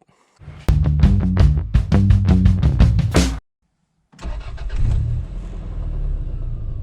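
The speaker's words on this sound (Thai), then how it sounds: "นี่อันนี้คืออาการเดินเบานะครับ ของเครื่องยนต์ ยังไม่ได้เปลี่ยนหัวเทียนนะฮะ" Toyota Corona engine idling roughly before a spark plug change: loud, uneven chugging with a rapid pulsing beat, a brief silence, then the engine running again more steadily.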